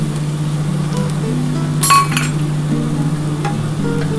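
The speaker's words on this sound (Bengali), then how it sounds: "এর মধ্যে এবার আমি ছোলাটা দিয়ে দিচ্ছি।" Raw chickpeas go into a vegetarian papaya and potato curry and get stirred in the pot, a brief bright clink and rattle in the middle over a steady background hum, with no talk.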